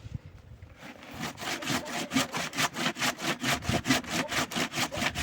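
Steady back-and-forth strokes of a hand saw cutting wood, rhythmic and close, roughly two strokes per second after a brief start.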